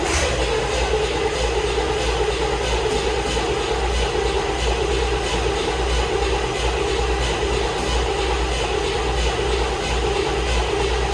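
A starter motor cranks a Chevy C10 engine with a steady, loud whirring drone that holds evenly for about eleven seconds, with no voices over it.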